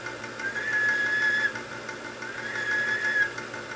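Two sustained whistled tones picked up through a radio microphone into a Pride KW-1 (DX-300) 4CX250B linear amplifier, each lasting about a second, over a faint hiss of background noise.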